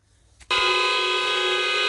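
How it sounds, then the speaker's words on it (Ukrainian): Car horns blaring in a street protest against corruption in Kyiv: after a brief quiet moment, a loud, sustained horn blast cuts in and holds steady to the end. "Із десяток столичних водіїв упевнено тиснуть на клаксони своїх машин"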